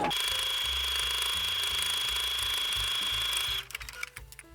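A Singer sewing machine stitching fabric for a topstitched finish: a steady, close mechanical hum with a rapid needle chatter that runs continuously, then cuts off, leaving a few softer clicks.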